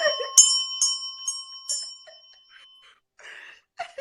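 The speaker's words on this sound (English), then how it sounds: "Or the bell." A bright bell rings a few times in quick succession, each strike leaving a ringing tone that decays over a couple of seconds, followed by faint background noises.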